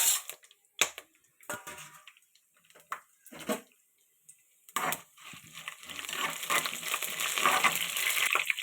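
Cinnamon and cloves crackle and sizzle in hot oil, first in scattered bursts, then building into a continuous loud frying sizzle.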